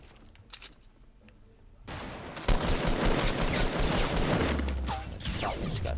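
Minigun fire in the video game Fortnite, a loud, sustained rattling stream of rapid shots that bursts in about two seconds in and continues to the end.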